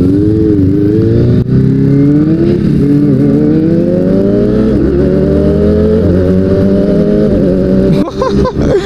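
A Kawasaki ZX25R motorcycle with an Arrow exhaust roars close and loud, its high-revving engine climbing steadily through a quick-shift gear change with a sharp blip near the end.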